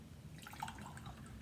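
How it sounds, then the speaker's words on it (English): Cold water being dumped out of a bottle, a quiet, brief splash and dribble that lasts about a second over a soft background hum. "now I'm gonna dump out my cold water"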